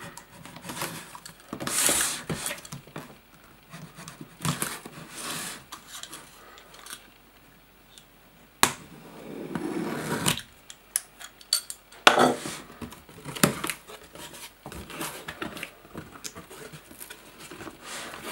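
A knife slicing through tape and cardboard on the box of a Sony XAV-AX3005DB double-DIN car head unit, with scattered close scratches, taps and rustling bursts of packaging and a few sharp clicks, no talk.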